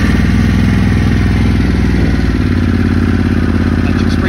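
A Harley-Davidson Pan America motorcycle engine starts and settles into a loud, steady idle, a close, continuous rumble with dense low firing pulses that stays strong throughout.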